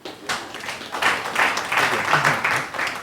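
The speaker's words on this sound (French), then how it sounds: "Est-ce qu'on peut applaudir pour elle?" Audience clapping at a talk, starting after a short pause and building into scattered, uneven applause from a modest crowd, moderately loud, with some voices mixed in.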